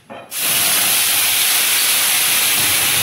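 Ground onion paste hits hot oil seasoned with bay leaves, dried red chillies and whole garam masala while shrimp malai curry is being made. It bursts into a loud, sudden sizzle that holds as a steady, close hiss.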